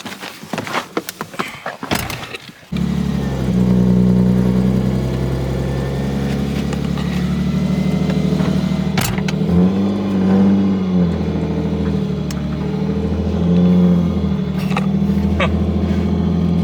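A modified Lexus street car's engine fires up after some scuffing noises, then idles loudly and steadily up close, rising in a few brief revs as it is driven.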